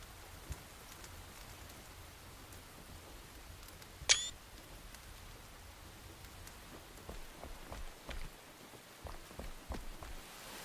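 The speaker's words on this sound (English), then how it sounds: "Oh, it's raining." Rain falling in the survival game Enshrouded, a faint steady hiss of drops with scattered light ticks and one sharp click, soft and continuous throughout with no talking.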